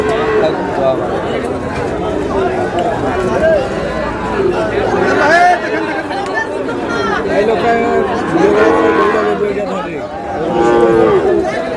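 Cattle low repeatedly amid the busy chatter of a crowded outdoor livestock market selling Sahiwal bull calves, the moos rising over a steady babble of voices.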